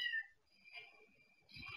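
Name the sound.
person imitating a cat's purring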